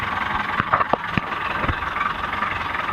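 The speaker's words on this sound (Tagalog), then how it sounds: "Makina po yan ng jeep na kinonvert namin" A converted jeep engine, a Ford R5, now powering a fishing boat, runs with a steady, close, droning rumble and a few sharp knocks and clicks scattered through it. No voices are heard.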